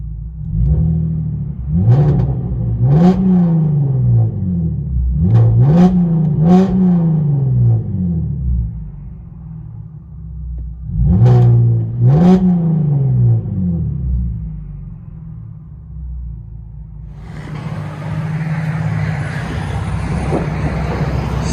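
Inside the cabin of a Cadillac CTS 3.6L V6 coupe with straight-piped exhaust, the engine is revved in paired bursts over a steady idle drone, with a louder broadband rush near the end.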